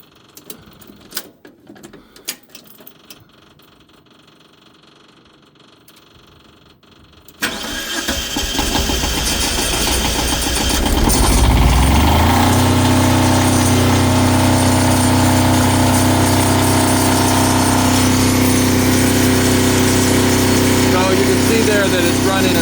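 A generator engine on a trailer catches after a few quiet knocks, then jumps into a loud, steady running drone that rises slightly in pitch and settles into an even hum.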